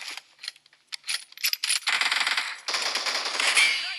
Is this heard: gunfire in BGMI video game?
yes